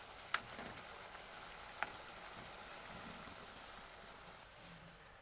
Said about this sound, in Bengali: তরকারিতে যে ফোট এসছে, যে দেখে বোঝা যাচ্ছে যে একদম প্রপারলি তরকারিটা কমপ্লিট হয়েছে